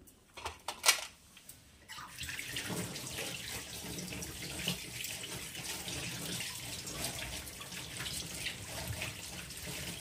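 Rock sugar (misri) rinsed under a running kitchen tap while preparing a Bengali payesh dessert; after a few brief clinks at the start, water gushes steadily and close up into a sink for the rest of the time, with no talking.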